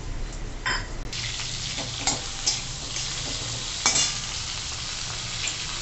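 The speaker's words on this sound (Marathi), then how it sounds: "हे बघा, असं छान परतवून घेतले ना, म्हणजे बटाटे कच्चे पण नाही राहत." Potatoes seasoned with chilli and salt sizzle steadily as they are stirred and sautéed in a pan, with a few scraping clinks of the spoon against the metal over a constant frying hiss.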